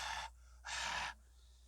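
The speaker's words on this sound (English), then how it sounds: "I keep breathing heavy." Close, heavy breathing from a beekeeper filming a deadout hive inspection on a phone: two loud, rasping breaths, one at the start and one midway, each lasting about half a second over a faint low hum.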